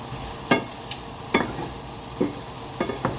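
Cajun shrimp being stirred in a cooling pan with the heat off, a spoon scraping in a few separate strokes over a soft, steady sizzle.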